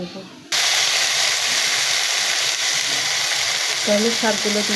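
Leafy greens drop into a pan of browned chili, onion and garlic, setting off a sudden loud, steady sizzle of frying with steam and occasional stirring, which runs on continuously after a quiet start.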